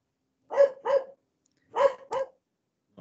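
A dog barks four times in two quick pairs, close and fairly loud, with silence between the bursts.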